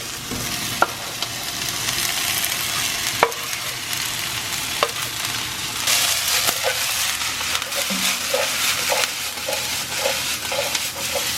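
Vegetables being stirred into sizzling onions in a pan, a steady frying hiss close by with periodic scraping and knocking of the spatula against the pan.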